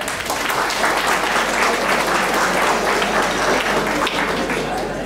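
Steady applause from an audience at a school academic excellence awards and parent-teacher meeting in India, dense continuous clapping filling the whole stretch at an even, fairly loud level.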